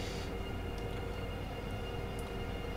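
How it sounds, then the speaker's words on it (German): An ÖBB 1016 Taurus electric locomotive runs in Train Simulator on the Arlbergbahn, giving a steady rolling rumble with a faint high electric tone above it, unbroken and without speech. "Fährt sich gut hier mit der Taurus. Mit der Baureihe 1016."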